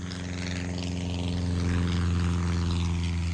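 A crop duster plane flies overhead above a plantation village, its steady propeller drone and engine hum holding loud and constant, swelling slightly as it nears.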